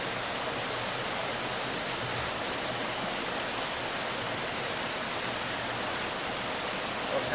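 Water pours continuously through stacked flow-through egg trays at a state fish hatchery, a dense, even hiss of falling and upwelling water with no pauses, close and steady.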